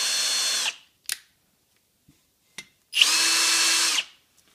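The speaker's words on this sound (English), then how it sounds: "I'm just after lapping the back in and putting a bit of a finish back on the actual seat and the valve." A power drill laps valves into their seats on a 1940–41 John Deere B tractor engine, two close, steady whirring bursts of about a second each, separated by quiet and small clicks.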